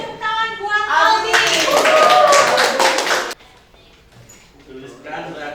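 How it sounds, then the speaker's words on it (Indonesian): A chemistry class gives a student a round of applause, a dense burst of clapping lasting about two seconds that stops sharply, with a teacher talking before and after. "Kasih tepuk tangan buat Aldi."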